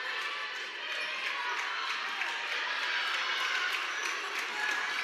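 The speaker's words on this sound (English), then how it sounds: "And the Bulldog fans clapping." Bulldog fans clap at a girls' varsity high school basketball game in a gym, a dense, even wash of applause from the crowd holding steady throughout.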